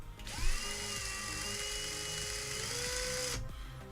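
A high-pitched power drill whines steadily for about three seconds, starting abruptly and cutting off cleanly, close and loud with no talking.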